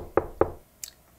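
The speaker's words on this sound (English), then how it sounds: "Sounds like somebody's at the door." Two sharp knocks on a door, evenly spaced and fairly close, followed by a brief faint higher click in a quiet room.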